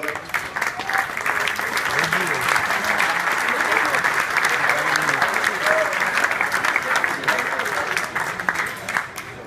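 Sustained audience applause at an abbey society gathering in Echandens, a dense, even wash of many hands clapping for several seconds while voices murmur underneath.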